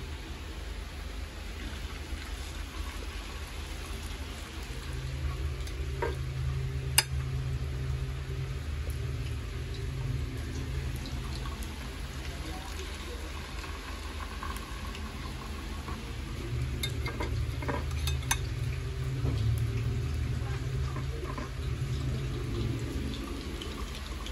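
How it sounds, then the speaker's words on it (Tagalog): Continuous sizzling hiss of milkfish frying in hot oil in a pan, steady and even throughout, with occasional faint pops and clicks and no talking. "Tapos mag-start na rin tayo magprito"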